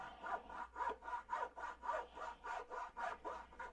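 A saw cutting a piece down at a workbench makes about seven steady back-and-forth rasping strokes. It is close and even, with no voices.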